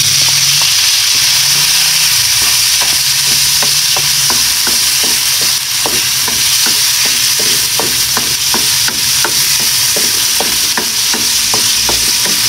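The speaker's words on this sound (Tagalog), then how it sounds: "Ang isusunod natin yung ating sibuyas at saka yung ating kamatis." Ginger, onion and tomato sautéing in a pan for shrimp sinigang, a loud, constant sizzle broken by a steady run of sharp clicks as a utensil stirs and scrapes the pan, with no talking.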